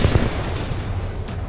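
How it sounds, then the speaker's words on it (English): Enemies exploding in the Titanfall 2 campaign: loud, close booming blasts in quick succession at the start, then a dense, noisy rumble trailing off. "See if we can use their explosion for some crowd control."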